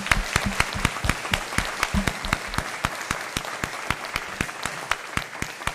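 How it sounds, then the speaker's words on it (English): An audience at a school board meeting claps steadily, sharp individual claps repeating in a quick, fairly even rhythm from a modest crowd. "Let's give them all a big round of applause."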